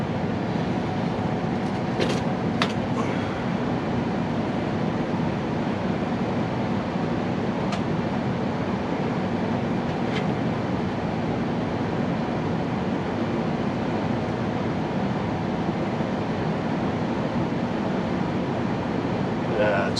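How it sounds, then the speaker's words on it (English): A Carrier furnace blower runs after startup, a steady, loud broadband whoosh and rumble that holds unchanged throughout, with a few faint clicks and a person talking quietly over it. "It's a blower on after startup."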